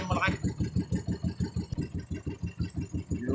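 A fishing boat engine idles with a steady, rapid thumping chug, close and moderately loud, with a brief higher mechanical whine at the start.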